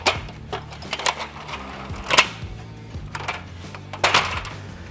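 A Little Giant Leveler ladder's hinge being unlocked, producing a few sharp metallic clicks and clacks at close range, with scattered handling rattles between them and no talking.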